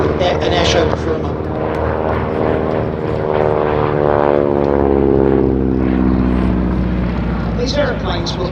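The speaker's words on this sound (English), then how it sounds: "has got the much bigger Pratt & Whitney R985 Wasp Junior engine with about 450 horsepower" A vintage aircraft with a 450-horsepower Pratt & Whitney R985 Wasp Junior radial engine drones loudly overhead at an airshow, its propeller tone rising and falling as it passes.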